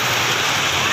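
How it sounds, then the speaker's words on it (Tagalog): Heavy rain pours down in a dense, steady hiss that fills the whole moment, loud and close with no break. "ang lakas ng ulan"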